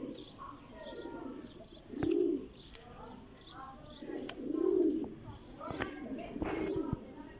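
Sialkoti pigeons, teddy and black-faced birds, coo in soft repeated bursts at a loft, with occasional chirps and faint wing sounds under intermittent talk.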